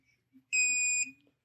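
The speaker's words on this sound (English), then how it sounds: "Once you hear that beep, you're about ready to go." One clear electronic beep from an Autel diagnostic tool connecting to a Mercedes, steady and high-pitched, lasting about half a second in an otherwise quiet space with faint sounds around it.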